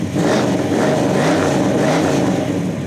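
A 1970 Pontiac GTO engine rumbling loud and close, with a deep steady idle that swells a little as it is revved.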